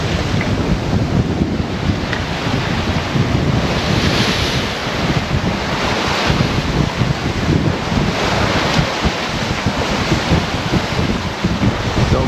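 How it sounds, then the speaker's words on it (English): Strong wind and rushing waves surround a sailboat heeling at about a 45-degree wind angle in roughly 22 knots, with steady loud wind buffeting and washing water throughout, no voices. "it's a little bit windy here"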